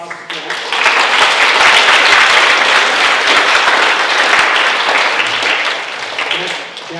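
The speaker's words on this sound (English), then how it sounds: "Round of applause for Jack." An auditorium crowd at a middle school end-of-year ceremony breaks into sustained, loud applause for a student accompanist, swelling quickly and holding as a dense wash of clapping before tapering near the end.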